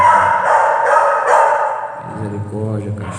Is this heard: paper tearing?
no